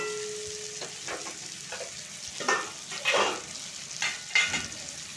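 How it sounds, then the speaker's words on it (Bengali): Potatoes frying with salt in a pan, a soft continuous sizzle with several louder scraping stirs of a spatula, close and moderately quiet, no talking. "নুন দিয়ে আলুগুলোকে ভাজবো"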